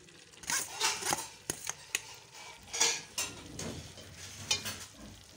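Desi chicken meat frying in masala over medium heat, with close metallic clanks and scrapes of a spoon stirring in the pot against a steady background sizzle, a few sharp knocks punctuating the stirring.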